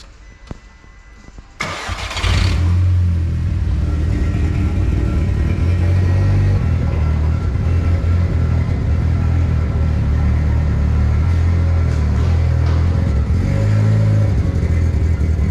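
Audi S3 with a repaired gearbox cranking briefly, then catching and settling into a loud, close, rumbling idle with a light rev near the end.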